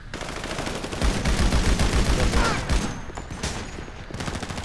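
Shotgun fire rings out in a GTA V survival firefight, a dense run of loud overlapping blasts that swell in the middle and then thin into scattered shots and rumble.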